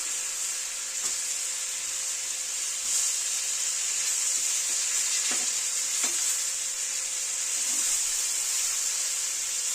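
Atlantic cod fillets fry in butter in a pan after being flipped, giving a continuous loud, bright sizzle and hiss up close, with a few faint clicks of a utensil and no talking.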